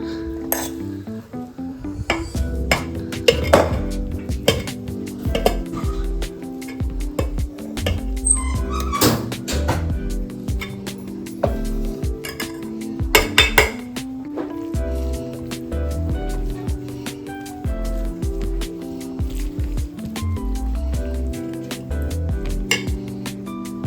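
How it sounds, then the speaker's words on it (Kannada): Cooked rice being stirred into capsicum gravy in a pan for capsicum rice, with a steady run of close metal spoon scrapes and clinks against the pan, repeated in uneven bursts throughout. "ಇವಾಗ ಇದಕ್ಕೆ ಅನ್ನ ಮಿಕ್ಸ್ ಮಾಡೋಣ"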